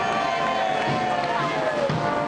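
Rousing applause and cheering from a large crowd lining an Anzac Day parade as military dogs pass. The clapping is steady and dense, with a continuous tone running under it.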